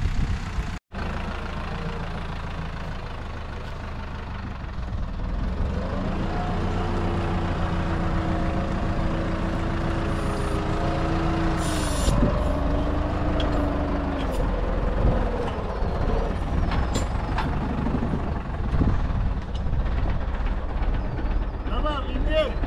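A tractor with a front loader hauls dry manure to spread under orchard trees and vineyards, its diesel engine idling and running steadily close by, with a brief hiss near the start.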